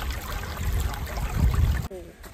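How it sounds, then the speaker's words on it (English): A brook near a village in Rheinland-Pfalz, Germany, burbles and rushes steadily nearby, a continuous close wash of flowing water that cuts off abruptly near the end. "That sounds so nice, brook."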